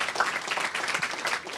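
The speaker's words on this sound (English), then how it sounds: "maybe just one more round of applause for all three panelists" Audience applause for a panel of three at a campus talk, a brief, even burst of many people clapping, fairly quiet and distant.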